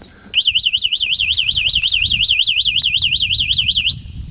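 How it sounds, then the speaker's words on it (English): Security alarm on an EW-46 electric scooter sounds off after the parked unit is pushed: a loud, rapidly warbling electronic siren tone that runs steadily for a few seconds over faint background noise, then stops. "alarm goes off"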